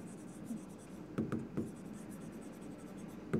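Marker or chalk strokes on a board during a chemistry lesson on hybridization, a few quick taps and scrapes clustered together, close and soft, in a quiet room.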